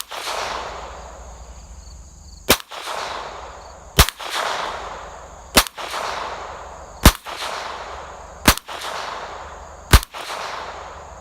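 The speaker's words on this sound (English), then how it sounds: "let's go ahead and fire off some of these crappy rounds of ammunition." A Smith & Wesson SW22 Victory .22 pistol fires seven sharp, loud single shots at roughly even intervals of about a second and a half, each crack followed by a short fading ring.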